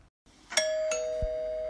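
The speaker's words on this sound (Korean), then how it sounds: "그때 초인종이 울렸어요." A doorbell rings a clear two-note ding-dong, the second tone lingering, followed by a soft dull thump, all fairly quiet with no talking.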